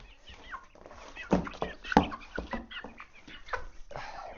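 Young chickens being released into their new coop cluck and cheep with scattered soft wing flaps and brief rustling bursts, close by and irregular.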